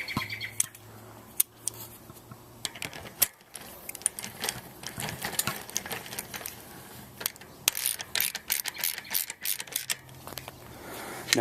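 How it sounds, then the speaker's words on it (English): A ratchet wrench tightens the rear wheel axle nut on a Haro bicycle, with bursts of quick clicking ratchet strokes between short pauses and a few louder knocks, close up and with no talk. "And then you give the nut a tighten down."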